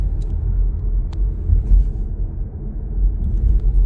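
Volvo EX30 electric car driving itself on autopilot through a Montenegro town, a steady low road rumble with faint tyre noise running throughout, close and continuous with no voices.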